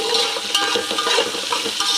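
Thinly sliced green chillies and vegetables fry in a pan for paneer biryani, giving a close, busy sizzle with scraping stirs and light clinks of the pan throughout. No one speaks.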